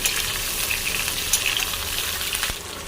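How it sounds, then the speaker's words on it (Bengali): Pointed gourd frying in oil, a dense close sizzle with soft stirring scrapes and a single sharp knock near the end, easing slightly as it finishes. "পটলটা ভালো করে ভেজে নেব,"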